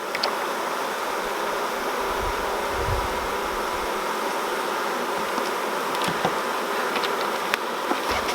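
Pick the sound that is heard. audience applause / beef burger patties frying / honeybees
honeybees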